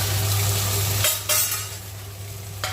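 Spices with turmeric, salt and coriander stems fry in hot oil for a mustard bean curry, a loud sizzle dropping away as a utensil clatters and scrapes against the pan a few times, with no talking.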